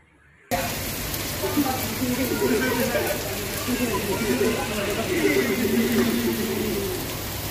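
Heavy hailstorm rain with strong wind in the town of Karad, a dense steady hiss and patter of rain and hail that starts suddenly and continues loud throughout, with wind noise and faint bird calls.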